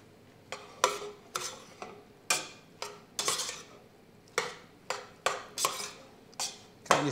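A spoon scrapes and clanks around a pan, mixing sauce into sausage meatballs. It makes about a dozen sharp metallic strokes in an uneven rhythm, each trailing off briefly, close and clear with no voices.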